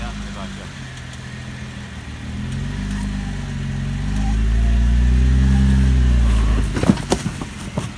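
Off-road vehicle engine labouring at low revs as it crawls up and over a rock on a trail, a steady rumble that swells louder midway, with people talking over it.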